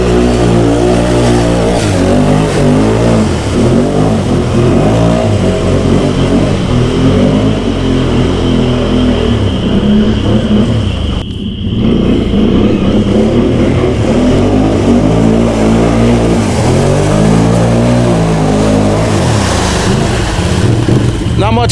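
A quad ATV engine on mud tires revs hard and loud almost without pause, rising and falling through repeated throttle bursts with one short break midway.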